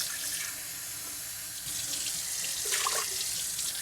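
Tap water runs steadily into a sink while rice is rinsed. The flow is close and continuous, with a splashy surge near the end as the grains are washed.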